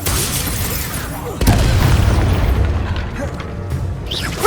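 A spell explosion in the Hogwarts Legacy video game, an Expulso blast, lands as a sudden loud boom that swells into a rumbling burst and fades slowly under game noise and some speech.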